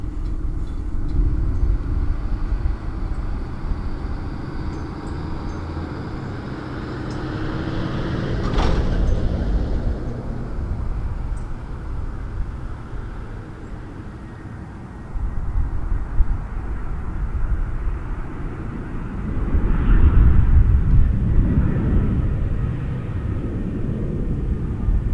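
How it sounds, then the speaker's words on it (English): An Airbus A320-200 airliner arrives at Toronto Pearson Airport, its steady jet rumble and roar swelling and fading at a distance, with no talking. "YYJ on an A320-200. We'll have a look at that as it comes in."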